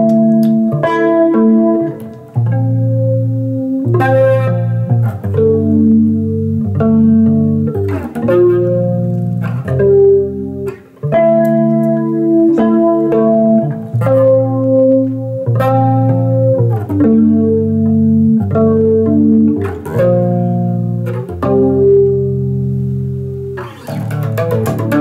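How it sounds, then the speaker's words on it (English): Melodic synth or guitar phrases drenched in spacious reverb with a sweeping, swirling flanger character, sustained and fairly loud throughout, no voices. "Some effects like reverb and flanger, so it sounds more spacey."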